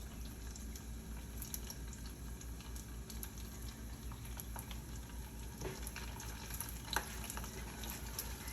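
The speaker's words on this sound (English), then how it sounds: "You will start to hear it start to sizzle a little bit." Garlic dressing sizzling quietly in a pot over medium-high heat, a faint steady crackle and fizz with occasional small pops and clinks, no talking.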